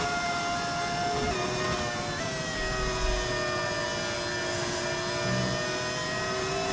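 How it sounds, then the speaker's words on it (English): A Formula 1 car engine from the F1 25 racing game howls steadily close behind, its high whining pitch gliding slightly down and then stepping as gears shift, loud and continuous with no talk. "Oh, I could hear Piastri's engine right behind me."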